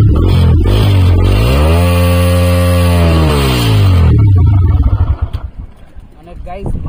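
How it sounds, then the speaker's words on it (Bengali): A stock motorcycle exhaust with its dB killer still fitted is revved close up, the engine note climbing and falling in one long sweep. It then drops to an uneven, throbbing idle with wind noise behind. "এক্সজস্ট সাউন্ডটা আমি আপনাদের একটু শোনাই"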